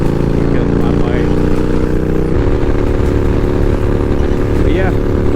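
A Yamaha Bolt motorcycle riding on the road, its engine droning loud and close with a steady rumble that shifts pitch partway through, mixed with wind and road noise.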